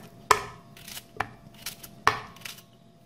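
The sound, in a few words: chopping cucumber into pieces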